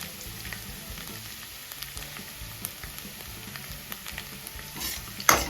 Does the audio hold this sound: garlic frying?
yes